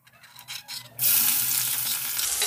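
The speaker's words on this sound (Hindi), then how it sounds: "जीरा ब्राउन होने के बाद दो मीडियम साइज़ के चॉप्ड प्याज डाल देंगे" Chopped onions hit hot oil with browned cumin while cooking a dry jackfruit curry, bursting into a loud, steady sizzle after a second of quiet tapping, close up.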